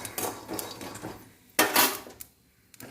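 Okra fry stirred in a pan, a series of close metallic scrapes and clinks of a spoon against the pan, one louder scrape mid-way followed by quieter taps.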